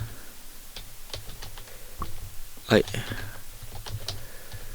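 Typing on a computer keyboard at a desk: soft irregular clicks under room noise, with one louder clatter midway and a brief spoken word.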